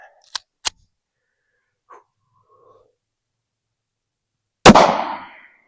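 A 9mm pistol fires a Federal HST 147gr round into ballistic gel, one loud close crack with a short decaying echo, preceded by sharp mechanical clicks and quiet handling sounds.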